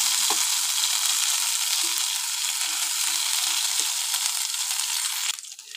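Bottle gourd leaf paste fries in hot oil with panch phoron and dried chilli, a loud steady sizzle with scattered stirring clicks that drops off sharply near the end.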